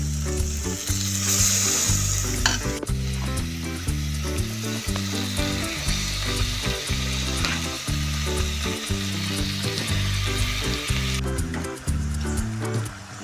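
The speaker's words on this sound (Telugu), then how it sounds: "ఈ మటన్ అంతా బాగా ఇలా కలుపుకోవాలి." Marinated mutton, added with green chillies, fries in a hot pan with a loud, continuous sizzle, broken by rhythmic scraping and stirring strokes from a spoon, close up and without speech.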